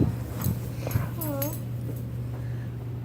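A puppy lets out a few thin, rising whimpers near a German Shepherd, close and clear over a steady low hum, with a brief rustle before.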